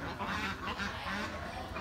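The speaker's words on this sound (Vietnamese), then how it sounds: "Nó là con vịt chứ không phải con ngỗng đâu" Several meat ducks kept on a farm in Tan Tru, Long An, quacking in a loud, close, overlapping chorus of rasping calls without pause.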